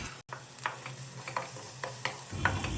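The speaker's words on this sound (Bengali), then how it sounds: "এরপর আমরা নিয়ে নেব আমাদের কেটে রাখা মাশরুমগুলোকে 2 থেকে 3 মিনিট নাড়িয়ে নিতে হবে হাই ফ্লেমে।" Sliced mushrooms and onion fry on a high flame for cream of mushroom soup, with a steady sizzle and a few light, regular ticks and scrapes of stirring, close and moderately loud.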